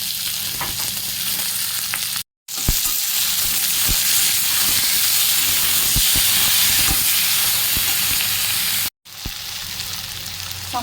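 Eggplant frying in a pan with tomato and green chilli, a dense continuous sizzle and hiss with steam and stirring sounds, interrupted by two short cuts, no talking.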